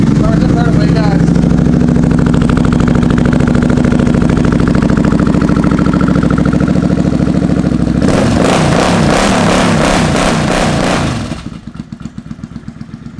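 A 1998 Suzuki Marauder 800 motorcycle engine idles steadily up close, then a burst of rapid clattering revs before it drops back to a lower, uneven putter; someone talks over it.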